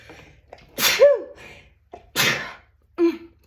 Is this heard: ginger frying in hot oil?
no